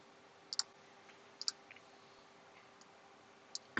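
Computer mouse clicks while downloading a file: a few sharp, quiet double clicks spaced a second or two apart over a near-silent room hum, then a final click at the end.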